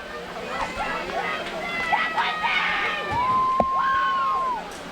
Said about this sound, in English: Got a very rowdy crowd out here tonight, John.